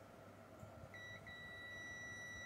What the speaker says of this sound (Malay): Ada buzzer bunyi, tandanya dia elok.